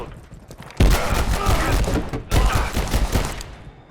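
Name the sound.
shotgun fire in video game Abiotic Factor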